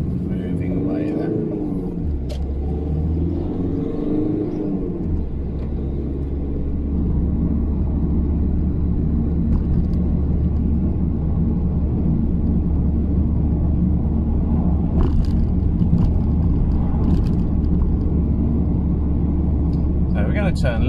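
A car pulls away from a junction after a stop, its engine rumbling low and steady as it gains speed, close and continuous, with a driving instructor talking over it.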